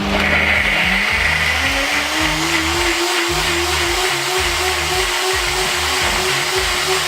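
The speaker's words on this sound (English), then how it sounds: "I'm going to blend this now." Blender running continuously at close range, churning fenugreek leaves with chopped onion, ginger and garlic; a loud steady motor whir whose pitch rises and settles as the load shifts, with no talking.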